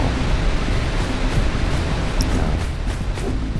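Waterfall in the video game Jak and Daxter: The Precursor Legacy, a continuous loud broadband rush of falling water, steady and unbroken throughout with no voices over it.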